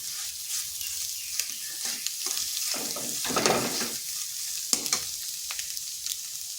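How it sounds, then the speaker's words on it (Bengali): Grated boiled egg being mixed into potato in a pan, a hissing sizzle with rhythmic scraping and stirring strokes, close and fairly loud, no voices. "ডিম আলু ভালোভাবে মিশিয়ে নিচ্ছি।"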